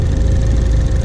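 A turbocharged Ford Focus ST engine runs loud and close, a steady throaty rumble with slight rises in pitch as it revs briefly.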